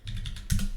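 Quick run of close keystrokes on a computer keyboard, several light taps followed by a heavier thud of a key, alone with no talk.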